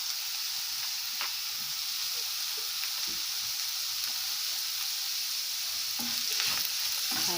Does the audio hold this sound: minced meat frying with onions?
yes